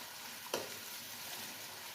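Two medium-sized chopped onions hit hot oil in a pan for an aloo anda curry, giving a steady close frying sizzle with a brief louder crackle as they go in, no talking.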